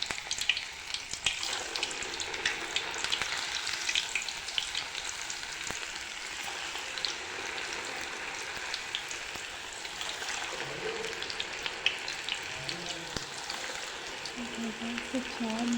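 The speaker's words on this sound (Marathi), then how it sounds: "फ्राय करू ते वडे." Vadas deep-frying in hot oil make a continuous crackling, bubbling sizzle, steady and fairly close, with faint background sounds and no speech over it.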